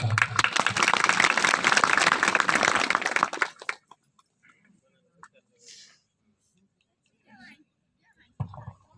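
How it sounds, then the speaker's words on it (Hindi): An audience claps at a Hindi religious discourse gathering: a dense burst of loud applause for about three and a half seconds, then near silence with a few scattered faint sounds. "तालियां"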